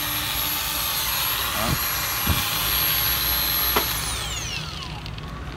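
A Milwaukee cordless angle grinder with a brushless motor and a 100 mm disc runs at a steady high whine and then spins down near the end, close by. Someone speaks briefly over it.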